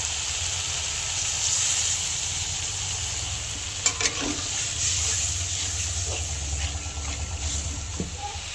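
Water is poured into fish masala frying in oil for a gravy, a loud continuous rushing sizzle and bubbling that holds steady, with a few spoon clinks.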